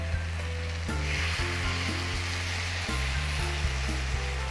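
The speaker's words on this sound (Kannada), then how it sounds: "ಎಣ್ಣೆ ಕಾದ ನಂತರ ನಾವಿಲ್ಲಿ ಮಸಾಲೆ ಜೊತೆ ನೆನೆಸಿಟ್ಟಂತಹ ಮೀನಿನ ತುಂಡುಗಳನ್ನು ಇದರಲ್ಲಿ ಹಾಕೊಳ್ತಾ ಇದ್ದೀವಿ" King fish pieces coated in thick masala fry in hot oil, giving a steady, close, broadband sizzle that runs throughout beneath background music.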